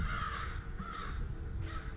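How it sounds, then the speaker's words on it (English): Several crows caw repeatedly in the woods, their harsh calls carrying over a steady background rumble. "The crows are squawking."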